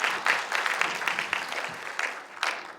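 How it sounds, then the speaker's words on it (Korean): A conference audience at a space design society academic meeting applauds to welcome a speaker, with a steady, close clatter of many hands that holds at an even level throughout. "여러분 큰 박수로 환영해 주시기 바랍니다."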